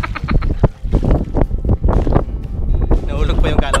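Strong wind gusts roar and buffet the microphone in rough, loud bursts on a boat at sea during a spearfishing trip in the Philippines.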